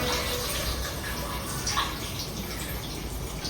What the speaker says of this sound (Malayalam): ഇനി വെള്ളം ഒഴിക്കുക